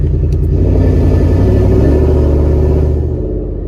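A loud, deep exhaust rumble from a 2022 Ford F-150 with long tube headers throbs steadily up close, easing slightly in pitch and fading a little toward the end.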